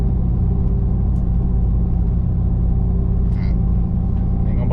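Mud tires roar on the road under a Chevy Silverado Trail Boss: a loud, constant low drone and hum from inside the cab with faint engine rumble and no talking.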